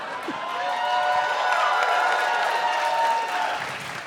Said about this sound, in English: I'm applauding